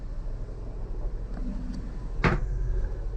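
A cupboard door on a 60-foot narrowboat is opened or shut with a single short knock, sitting close and moderately loud over a steady low background rumble.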